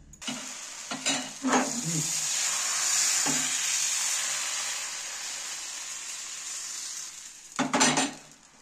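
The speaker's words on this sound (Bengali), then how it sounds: "ভেজে নিচ্ছি, একটা থালার মধ্যে রাখছি।" Patishapta fries in a pan with a steady sizzle, broken by a few sharp scrapes and clinks of a spatula at the start and a louder cluster of scraping near the end, close and without talk.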